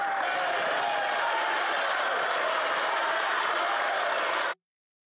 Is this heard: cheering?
yes